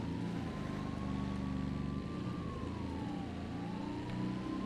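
A police car siren in a racing video game, a faint wailing tone that drifts slowly up and down above a loud, steady engine drone.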